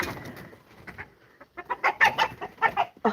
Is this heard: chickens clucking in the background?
yes